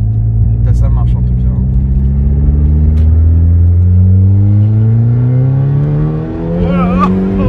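An Audi S3 engine revs hard with its exhaust valve open, a loud, steady rising drone whose pitch climbs over several seconds before briefly dipping and surging again, with people talking over it.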